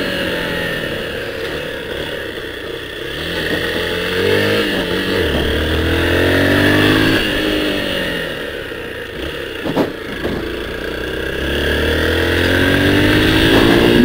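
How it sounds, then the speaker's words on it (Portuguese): A Honda XRE 190 motorcycle engine revs up and climbs in pitch toward 8,000 rpm, easing off and accelerating again, loud and close throughout. "Olha que moto boa, olha que acelerada."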